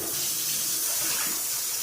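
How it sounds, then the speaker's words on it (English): Cold tap water runs steadily into a sink during kombucha preparation, a loud, continuous rushing splash close by with no speech over it. "I use cold water in a sink to cool it down"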